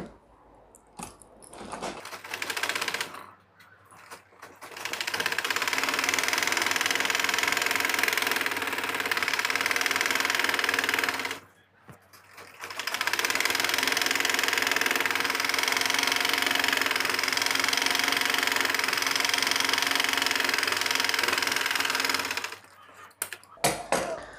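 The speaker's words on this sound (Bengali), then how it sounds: "আমরা চাপ সেলাই দিচ্ছি" A sewing machine top-stitches the seams of trouser pajamas in loud, steady mechanical runs of several seconds each, broken by short pauses. No one speaks.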